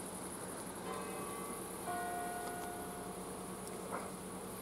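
Church bells ring out to mark the hour, a faint, distant sustained chime over a steady outdoor hum and insect-like buzzing, with no speech.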